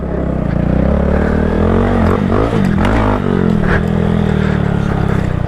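Honda Grom motorcycle engine riding over dirt jumps, a steady loud buzzing drone with pitch rising and dipping as the throttle blips on landings, continuous and close throughout.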